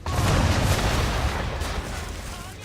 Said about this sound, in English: Hold, then release shift to fire the cannon.